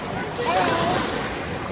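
Surf breaks on a beach as a small child fills a bucket with a scoop at the sea, a continuous wash of waves with wind buffeting the microphone and a voice in the background.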